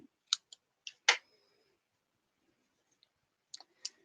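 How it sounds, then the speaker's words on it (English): A few sharp scissor snips trimming paper for a card, quick paired clicks spaced out with pauses between, close and fairly quiet, no talking. "You could cut it with scissors, no great secret to that."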